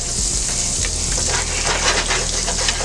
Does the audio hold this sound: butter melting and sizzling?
yes